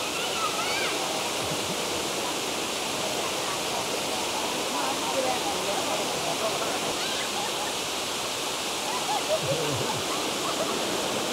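Water rushes steadily down a water slide with children playing, a continuous loud broadband hiss like a strong stream, with voices mixed in beneath it.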